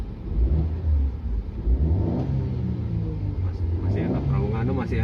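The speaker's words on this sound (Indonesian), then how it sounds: "masih enak, raungannya masih enak suara mesinnya." A Mercedes C200 former taxi's engine revs up and down in several surges, rumbling close by, with people talking over it.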